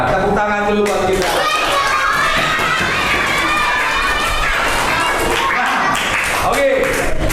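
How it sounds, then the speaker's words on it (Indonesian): Schoolchildren in a Catholic religion class clap their hands in a noisy classroom, a continuous wash of scattered clapping blended with lively children's voices and chatter. "Tepuk tangan dulu buat kita."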